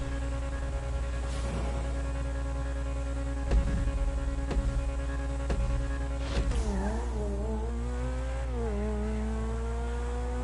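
A Grotti Turismo R sports car in GTA holds a steady engine drone heard from outside, then revs up and down a few times, swooping in pitch.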